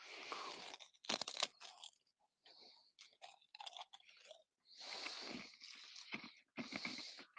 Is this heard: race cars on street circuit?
no